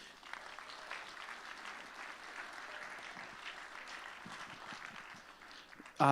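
Applause from the audience at a children's charity benefit auction, a fairly quiet, steady patter of clapping throughout with a sharp louder burst at the very end.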